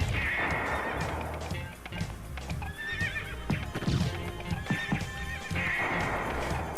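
Horses in the Castlevania video game neigh and whinny several times, with clip-clopping hooves pounding steadily underneath. The sounds are fairly quiet and no voice is heard.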